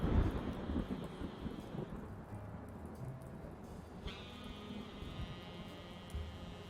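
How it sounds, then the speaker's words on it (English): Thunderstorm in the video game Blacksad: Under the Skin: steady rain hiss with a low rumble of thunder, a louder crack at the start, fading into a soft continuous downpour with no voices. "Love a good thunderstorm."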